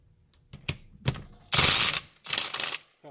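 Ratchet wrench cranking down nuts on a Spartan locker in an 8-inch Toyota rear differential, a few sharp clicks followed by two longer rapid ratcheting bursts, close and alone.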